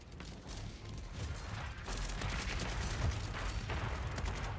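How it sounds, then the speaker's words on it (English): Morning artillery bombardment in a Battleplan war game siege of Cherbourg, heard as a faint, continuous rumble of distant fire with dense overlapping blasts, low and steady throughout. "Little artillery bombardment there in the morning."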